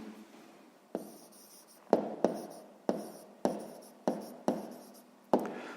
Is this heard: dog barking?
no